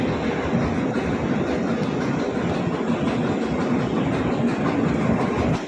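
Train at a station in Singapore or Malaysia, a loud, continuous rumble with a faint rhythmic clatter, heard up close and steady for the whole stretch without voices.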